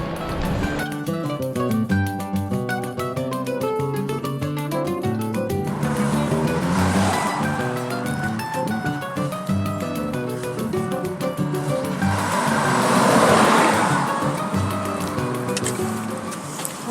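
Road traffic passes at the Route 85 crossing on a bike trail, vehicles swelling and fading in waves over a continuous background wash, with a louder pass toward the end.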